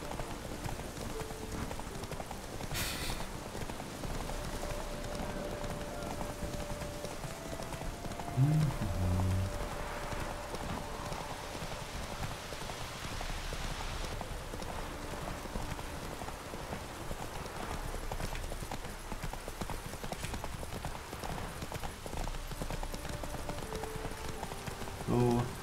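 Horse hooves clip-clopping in The Witcher 3, a steady mid-level rhythm running through the whole stretch under rain-like game ambience, with someone talking over it.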